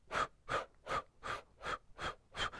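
During a vocal breathing exercise, a person takes seven quick, forceful breaths in a steady rhythm, each a sharp, close, airy gasp separated by brief pauses.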